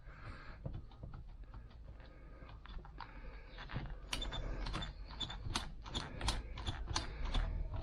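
Front seat of a Land Rover Discovery 300 Tdi being adjusted, giving close mechanical creaks and ratcheting clicks, with sharper snapping clicks in the second half as the seat frame shifts.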